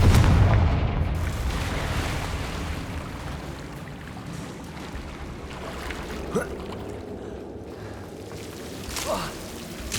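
A Confringo blasting spell in Hogwarts Legacy erupts in a deep, loud boom at the start, then fades into a low rumbling bed with a couple of fainter cracks later on.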